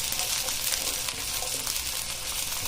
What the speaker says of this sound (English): while these are sizzling,